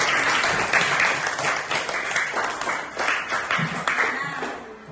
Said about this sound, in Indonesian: Ya, tepuk tangan buat dia